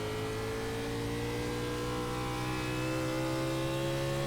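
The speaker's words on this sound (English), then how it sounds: "Trying to work the throttle a little bit smoother off the corner." A NASCAR Class B race car engine in iRacing drones with a steady, close, loud whine, holding a sustained throttle note off the corner and rising only slightly.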